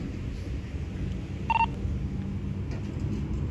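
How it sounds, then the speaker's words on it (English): A phone being dialed for a call during a police encounter over a refused ID, with a brief burst of two dial tones near the middle over steady background rumble. "Before you make that phone call"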